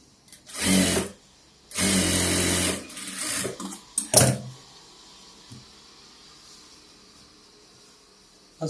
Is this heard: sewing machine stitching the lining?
yes